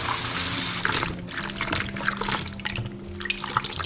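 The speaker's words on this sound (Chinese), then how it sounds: "然后把鸡枞菌多清洗几遍" Termite mushrooms (jizong) being rinsed in a basin of salted water, with close sloshing, trickling and splashing as the mushrooms are swished and handled.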